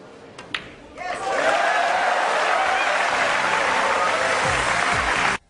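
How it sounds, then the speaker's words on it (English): Arena crowd at a Manila pool match between Ralf Souquet and Ronato Alcano bursts into loud sustained applause after a brief quieter moment with a faint click, holding steady before cutting off abruptly. "This crowd could not be happier"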